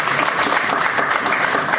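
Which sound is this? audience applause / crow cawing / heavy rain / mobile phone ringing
audience applause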